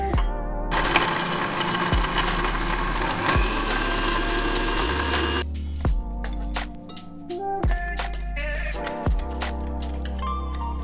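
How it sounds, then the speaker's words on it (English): A mixer grinder whirs loudly for several seconds, grinding cooled edible gum for panjiri, then cuts off while steady background music with a thumping beat continues throughout. "In the meantime, transfer your cooled edible gum and grind."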